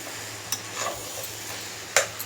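A ridge gourd and egg curry is stirred in a pan, with soft, wet mixing and a gentle sizzle punctuated by a couple of sharp utensil clicks against the pan.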